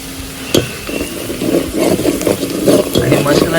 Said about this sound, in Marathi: बरं आता छान तेलात परतवून घेऊया